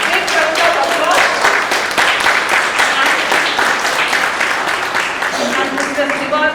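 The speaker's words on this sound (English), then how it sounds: "Please give her a big round of applause." Audience applause for a nursing department staff member at a hospital staff gathering, a dense, steady wash of many hands clapping throughout, with faint voices surfacing near the end.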